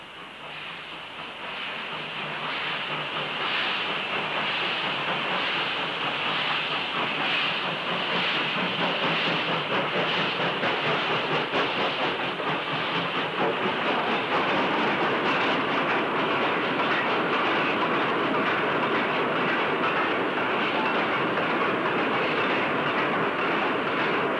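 Locomotive 45381 on a goods trip working to Halliwell on the Blackburn line passes down a station platform with a continuous loud rumble, hiss and rhythmic clickety-clack of wagons, heard alone without voices.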